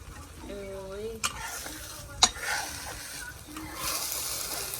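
Eggs frying in a pan give a steady close sizzle with stirring and scraping, a couple of sharp utensil knocks, and brief voices partway through.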